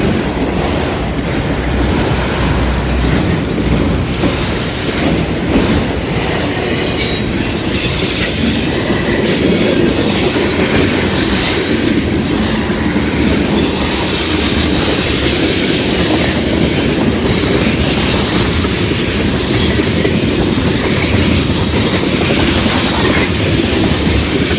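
A long freight train rumbles past close by, loud and continuous, with rattling wheels, clanking cars and occasional metallic squeals.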